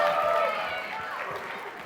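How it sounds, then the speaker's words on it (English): A church audience gives a round of applause as a reverend comes up to speak, a diffuse wash of clapping fading slightly over its short span, with a sustained tonal sound layered over it. "let's give Reverend Jeffrey Brown a great round of applause as he comes up."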